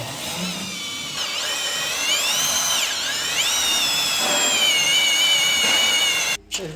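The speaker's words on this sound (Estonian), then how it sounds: "Sul on väike trell ja mine võtta suur." A power drill whines steadily and loud up close while working on a drift car, its pitch rising and dipping as it bites in, then cuts off abruptly near the end.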